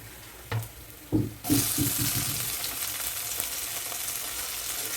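Onion frying in a pan with tomato added, a short clatter and thumps as pieces drop in, then a steady, moderately loud sizzle that keeps on evenly to the end.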